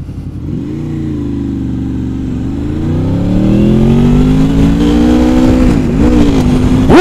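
Honda Interceptor VTEC motorcycle engine running loud and close, a steady droning note that climbs gradually as it revs up and dips near the end before picking up again, no voices.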